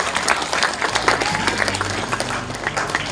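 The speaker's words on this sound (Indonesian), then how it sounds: "Mari kita berikan tepuk tangan untuk mereka." Audience applause at a graduation farewell ceremony for final-year students of an Islamic boarding school, steady dense clapping from a crowd throughout, fairly loud and continuous.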